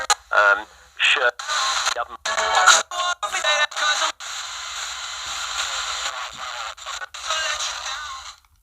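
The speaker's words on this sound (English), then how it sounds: "Let's try the Marcotis box again. We do another spirit box session here." Spirit box radio sweeping through static at a Halloween ghost-hunting session, choppy bursts of hiss and broken radio voice fragments cut by abrupt gaps.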